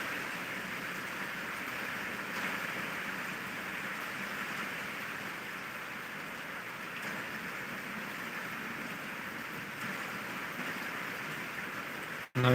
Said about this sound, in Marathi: खुलताबादला पाऊस चालू आहे सध्या